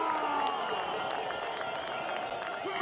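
A crowd of fans at a Freeride World Tour ski and snowboard event at Baqueira Beret, Spain, applauds and cheers in a continuous wash of clapping and whoops, with raised voices mixed into the noise.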